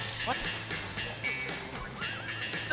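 A horse neighs in the prison-escape video game The Escapists 2, its whinny and faint clip-clop sitting under game background sounds and a person talking throughout.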